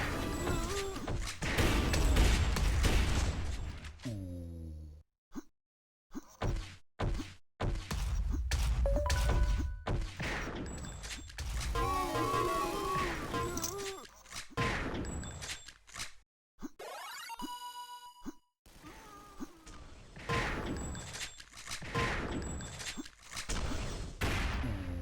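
Rapid gunfire in a capture-the-flag video game match, with bursts of shots, impacts and dings coming in dense waves, sometimes broken by short gaps.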